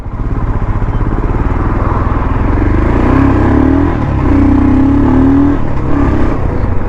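A Royal Enfield Scram 440 motorcycle on an off-road test ride revs loud and close, its thumping engine climbing through rising pitches in successive pulls without any speech.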